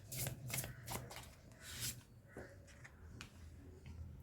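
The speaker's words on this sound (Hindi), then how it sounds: "वापस से शफल करना बेटर है" Tarot cards being shuffled close up, a quiet series of crisp riffling flutters and soft slides as the deck is worked through the hands, with no talking.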